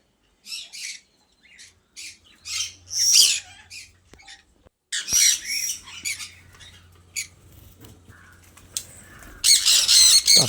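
Parrots of several varieties squawk in a park aviary in harsh, bursting calls, loud and close, coming in irregular clusters with short quiet gaps and a dense flurry at the end.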